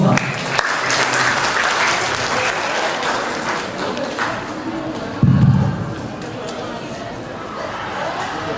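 An audience at a campus talk claps warmly, with steady applause that continues under a voice and a brief burst of louder clapping midway before it tapers off.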